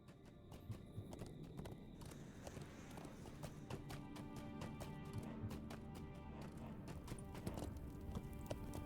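Hooves of a steed thud in a fast galloping rhythm in the Lord of the Rings Online game, steady and fairly close. Clattering game effects and a faint voice sit in the background.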